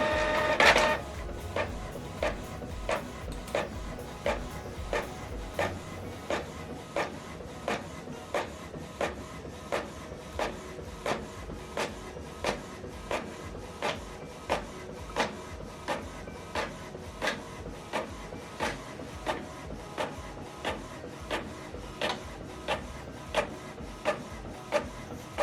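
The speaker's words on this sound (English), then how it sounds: "You can see the document is printing out." A printer runs off a double-sided document, its mechanism ticking in a steady, evenly spaced rhythm of close clicks and whirring for the whole stretch, after a louder starting clunk.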